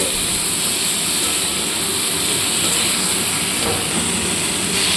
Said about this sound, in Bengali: এবার এটা দিয়ে খানিকক্ষণ ভাজবো।